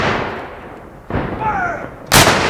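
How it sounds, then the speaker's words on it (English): A historic artillery cannon of a Civil War–style battery fires at Fort Defiance in Clarksville, Tennessee; a loud, booming blast rings out at about two seconds, after a quieter earlier shot and lingering outdoor rumble. "Gun 2 ready, sir. From the right. 4 seconds. Fire!"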